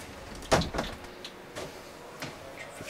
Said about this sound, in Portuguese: Aqui nós temos uma porta de correr.